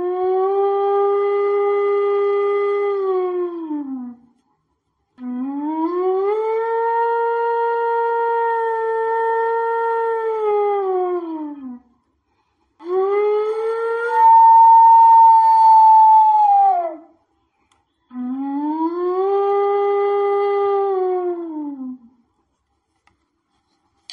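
A performer imitates big dogs howling at night with four long, wavering, siren-like howls, each rising and then sliding down, loud and near with short pauses between them.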